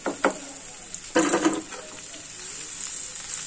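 Beans dropped into a hot pan with onion and spices sizzle and fry, with a sharp burst of crackle as they go in and a steady hiss that settles afterward.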